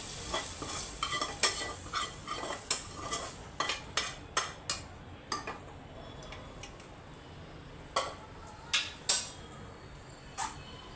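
A spoon scrapes lightly sautéed vegetables into a pressure cooker while pav bhaji is cooked. A run of quiet metallic taps and scrapes comes at a regular pace, pauses, then returns in a few final clinks.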